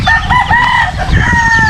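A gamefowl rooster crows and clucks up close, with loud, repeated calls over about two seconds and other farm birds audible behind it.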